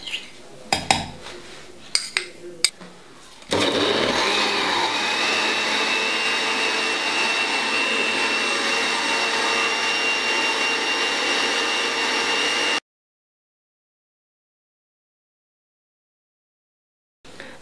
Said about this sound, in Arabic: وعندي كلشي نطحنو مزيان